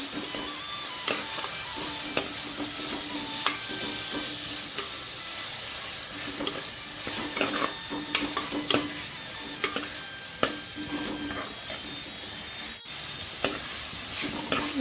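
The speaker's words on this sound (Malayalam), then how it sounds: "നീളത്തിൽ ചെറുതായി മുറിച്ചു നമുക്കതൊന്ന് നല്ലതുപോലെ വഴറ്റിയെടുക്കാം" Chopped tomatoes sauté in a pan for a fish curry, giving a steady close sizzle with repeated scraping stirs and light clicks throughout, with no talking.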